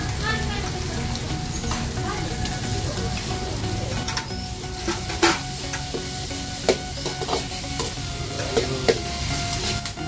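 Onion and tomato fry in a pan with ginger garlic paste, a steady close sizzle broken by occasional stirring scrapes and clatters throughout, with no voices.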